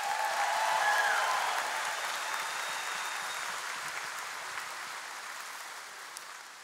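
A large crowd of school district employees applauds speaker Billy Riggs at a staff convocation, a broad, steady wash of clapping that fades slowly from a louder start, with a faint voice briefly over it early on.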